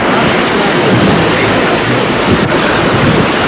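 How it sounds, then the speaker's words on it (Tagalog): Powerful typhoon-driven ocean waves pound a pier in Vera, Catanduanes during Super Typhoon Haiyan, a loud, continuous roar of surf mixed with heavy wind buffeting the microphone, with no voices. "malalakas na alon na humampas sa pier ng Vera, Catanduanes"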